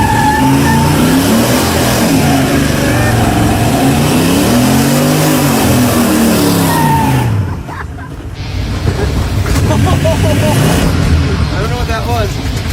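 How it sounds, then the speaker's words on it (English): A car engine screaming through a smoky burnout, rising and falling revs in loud sweeping waves for several seconds, then cutting off abruptly into rough sputtering and clatter as something breaks, with voices around it. "You have to smoky burnout."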